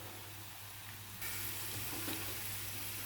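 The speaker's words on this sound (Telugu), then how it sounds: "అల్లం పచ్చివాసన పోయేటట్టుగా వేగిందండి" Ginger frying in hot oil in a pan for a fish curry, a steady close sizzle that jumps louder partway through, running alone with no talk.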